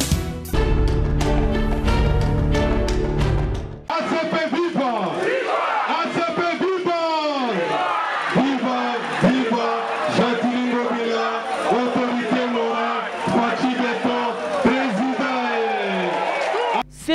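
A large crowd of mostly women at the municipal stadium of Massina, loud cheering and ululating voices filling the space after an opening burst of music, sustained and close throughout.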